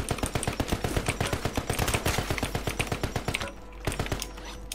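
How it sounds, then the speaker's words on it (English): Automatic gunfire in Call of Duty: Warzone shooting through walls, a rapid sustained burst of loud sharp cracks in quick rhythm, then a brief pause and a few more scattered shots. "Wall banging these guys."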